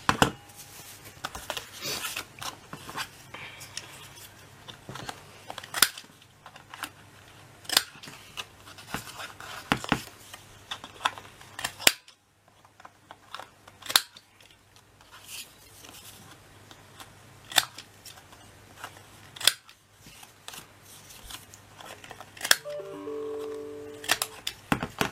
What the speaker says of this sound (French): On prend nos 4 morceaux de papier et on va venir les arrondir avec le plus gros,